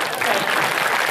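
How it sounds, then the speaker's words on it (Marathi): An audience at a devotional kirtan gathering claps loudly and continuously, a dense, even patter of many hands throughout the short stretch. "आणि फुकाच्या टाळ्या तरी जोरात वाजवा"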